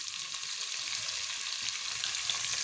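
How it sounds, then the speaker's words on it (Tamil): Pepper, cumin, green chili and curry leaves sauté in hot oil in a pan for ven pongal, giving a steady, bright, crackling sizzle with gentle stirring noises throughout and no talking. "அந்த மிளகு, ஜீரகம், பச்சை மிளகாய், கருவேப்பிலை இதெல்லாம் நல்லா வதங்கி"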